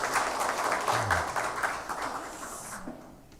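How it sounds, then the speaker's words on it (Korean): Applause from a church congregation for the choir during a chapel service, a dense wash of many hands clapping at moderate volume that fades out near the end. "성가대원들에게 다시 한번 감사의 박수하겠습니다."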